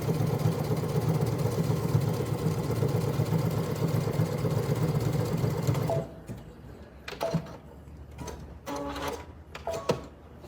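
A sewing machine runs a decorative stitch along bias tape, a fast, steady mechanical whirr for about six seconds that stops abruptly, followed by a few quiet clicks and handling sounds.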